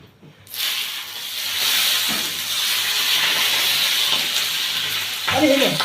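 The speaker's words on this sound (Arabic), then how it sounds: "خدت الزيت والسمنه بتاع التحمير بتاعي وحطيته على وش المحشي" Hot frying oil and ghee poured over cooked mahshi, a sudden loud steady sizzle and hiss that starts abruptly and holds close up, with a brief voice near the end.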